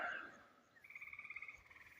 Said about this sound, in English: the birds are chirping, the frogs are singing their song